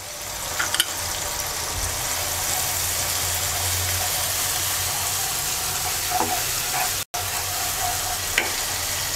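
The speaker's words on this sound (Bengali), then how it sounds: "এবার মশলাটাকে কিছুক্ষণ কষিয়ে নেব" Masala of ginger-garlic paste, chilli, turmeric and coriander powders with sliced green chillies sizzles steadily in a hot pan for a Bengali boal fish curry, a close continuous frying hiss with occasional stirring scrapes and a brief gap near the end.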